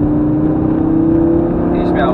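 Lamborghini Gallardo engine held at full throttle, a loud continuous in-car roar with a steady tone, with an instructor's voice over it.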